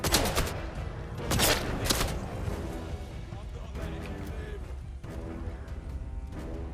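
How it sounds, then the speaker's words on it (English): Gunfire in the video game Atomfall: several loud, sharp shots in quick bursts near the start, then scattered quieter reports over busy game noise, with someone talking throughout. "I'm shooting."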